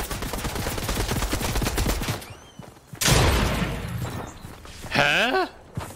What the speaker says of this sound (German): Ich hab zwar die Schüsse gehört,